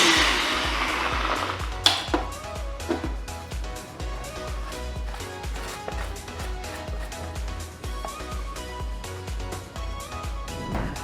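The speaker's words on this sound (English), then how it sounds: "before it goes into your blender" A blender whirs loudly and continuously nearby, grinding tamarind marinade for Goan chicken curry, its motor a steady, slightly rattling drone with no speech.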